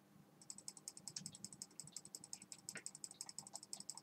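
Rapid computer keyboard typing and mouse clicking during a Minecraft session, a dense rhythmic run of close, crisp key taps that continues steadily without talk.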